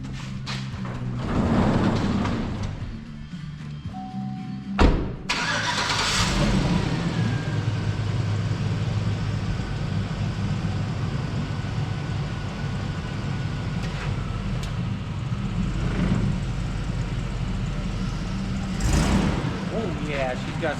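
A 2004 Chevy Silverado pickup with a replaced 4L60E transmission runs with a steady, close engine rumble and idle throughout, a thump near the start, while people talk over it.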